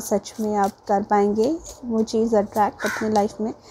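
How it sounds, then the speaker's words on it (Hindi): A crow caws repeatedly behind someone talking, with short harsh calls in quick bursts running under her voice throughout, fairly close. "अगर आप सुन रहे हैं मेरे पीछे कौवा बोल रहे हैं"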